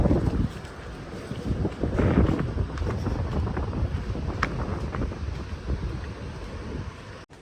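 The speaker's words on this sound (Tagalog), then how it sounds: "Malakas na yung hangin." Strong Super Typhoon Ragasa wind in Macau roars and gusts hard against the microphone, a loud, continuous rushing that swells and eases throughout, with no talking.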